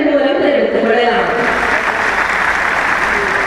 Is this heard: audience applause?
yes